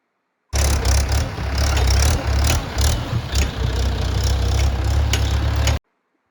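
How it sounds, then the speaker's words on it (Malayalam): A tractor hauling harvested paddy from the fields drones steadily, its engine rumbling low and loud nearby with a rough, pulsing idle that starts and stops abruptly, and no voices over it. "കളക്ട് ചെയ്ത നെല്ലാണ് ഈ ട്രാക്ടർ വഴി അവര് കൊണ്ടുപോകുന്നത്"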